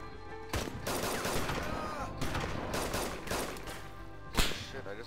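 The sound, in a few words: video game gunfire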